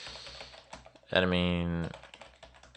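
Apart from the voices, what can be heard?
typing a URL on a computer keyboard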